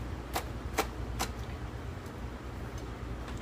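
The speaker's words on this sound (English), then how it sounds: "I'm just going to chop that up really, really fine" A knife finely chopping a jalapeno on a board gives three crisp, evenly spaced taps followed by a few fainter ones, set against a steady low background hum.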